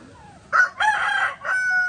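An Asil rooster crows once, close and loud, a brief rising call followed by a drawn-out strained note.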